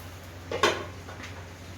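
A lid is set onto a cooking pan holding diet chowmein, giving a single short metallic clink, close and moderately loud, over a low steady background hum.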